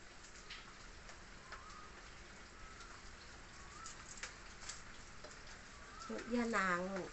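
Steady rain falls on an overcast day, a continuous soft hiss of drops throughout, with a voice rising briefly near the end.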